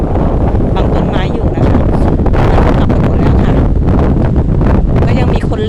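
Strong wind buffets the microphone at a sandy beach, a loud continuous roar with gusty surges throughout, with a voice partly beneath it.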